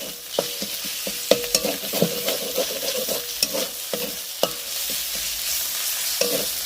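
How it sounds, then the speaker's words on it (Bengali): Jackfruit and potato curry is stir-fried in oil that has begun to separate. A dense, close sizzle runs throughout, punctuated by rhythmic spatula scrapes and taps against the pan, with no talk. "ভালো করে কষিয়ে নেব"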